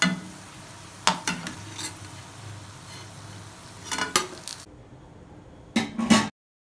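Madu vada frying in oil until brown: a soft, steady sizzle with a few sharp clinks and scrapes of a utensil against the pan, close by, ending abruptly after a final cluster of knocks.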